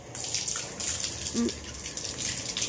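Water is poured in a steady, splashing gush that rises and falls slightly over a few seconds, fairly close and without talk.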